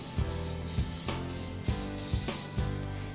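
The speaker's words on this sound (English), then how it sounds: "I use the butter spray" Butter-flavored cooking spray hisses from an aerosol can into a Pyrex baking dish, about six short close bursts in quick succession, each a sharp airy spritz with brief pauses between.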